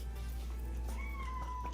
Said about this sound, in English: So if you hear a cat going crazy, that is my cat going crazy.